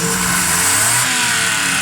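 A Suzuki Cultus car engine runs steadily after a carburetor service, with a loud, continuous rev. No one speaks over the nearby mechanical hum.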